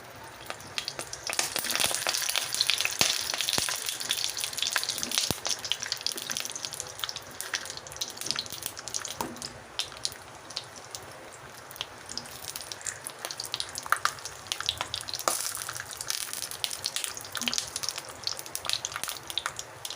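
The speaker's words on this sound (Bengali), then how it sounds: "ভালোভাবে ধুয়ে পরিষ্কার করে রাখা পটলগুলিকে আমি হালকাভাবে ভেজে নেব।" Pointed gourds fry in oil in a pan, giving a dense, continuous crackling sizzle that holds steady at close range for the whole stretch, with no talking.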